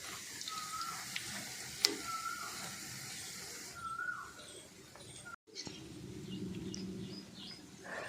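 Bhajiya fritters frying in oil over a low gas flame, a soft steady sizzle with faint stirring scrapes and clinks, quiet and close.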